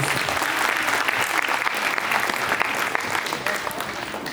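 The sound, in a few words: applause for a golden wedding anniversary couple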